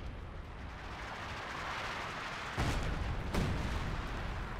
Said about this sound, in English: British artillery opening fire.